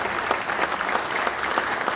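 Audience at the Academia Paulista de Letras induction ceremony applauding, a dense even wash of many hands clapping, steady and moderately near.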